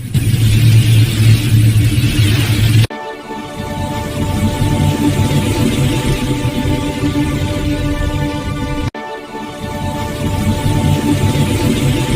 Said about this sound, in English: Let's ride some motorcycles today.